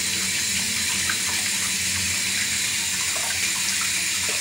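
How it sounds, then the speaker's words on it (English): A tap runs steadily into a sink while hands are washed, a continuous close splashing hiss with no voices. "So I'm gonna wash my hands real quick."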